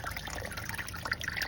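A garden hose runs into a pond filter in a plant-pot pond, giving a steady close trickle and gurgle of water that continues throughout without speech.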